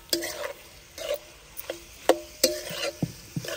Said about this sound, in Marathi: आणि असं मिक्स करून घेणार आहे दही टाकल्यानंतर